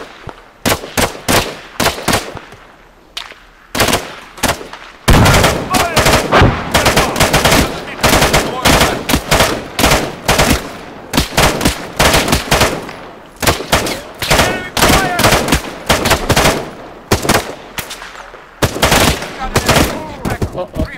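Dense automatic and single gunshots in an Arma 3 firefight in Chernarus, loud bursts of rifle and machine-gun fire coming in rapid clusters with short gaps, some shots close and sharp, others echoing further off.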